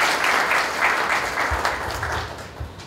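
A round of applause welcoming a guest at a college Women's Day celebration, a moderate audience clapping steadily and then gradually thinning out toward the end.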